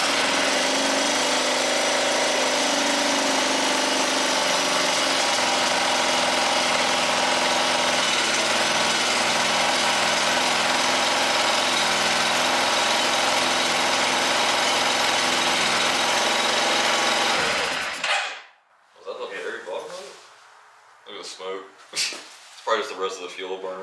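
An ATV engine, keyed on in neutral, runs with a loud, steady droning idle for about seventeen seconds, then shuts off abruptly, leaving quiet with a voice talking.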